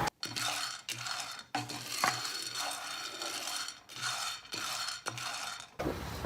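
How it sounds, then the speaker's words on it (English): Green coffee beans toasting in a pan over medium heat, a dry rattling and scraping as the beans are shaken and stirred in bursts, with brief quiet gaps between the runs of clatter. "The green beans are in a medium heat pan. And we're just warming them and toasting them."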